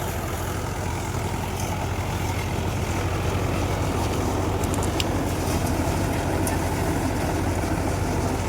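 A Mahindra vehicle's engine runs with a continuous low, rumbling drone. It holds steady and fairly loud throughout, with faint higher clatter on top.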